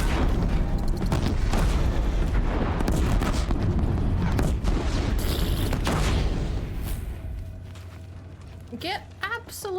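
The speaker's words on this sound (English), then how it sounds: "You just put sticky bombs on them. And I wait for the kaboom." Sticky bombs explode in Horizon Zero Dawn, a dense run of loud booms and crackling blasts that fades after several seconds, with a voice heard near the end.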